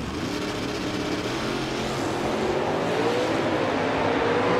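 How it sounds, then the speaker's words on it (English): Drag racing cars launching in the NMCA All-American Nationals final round, a loud steady engine roar that rises in pitch as the cars pull away, continuous and without pause. "And a proper drag race here in the final round."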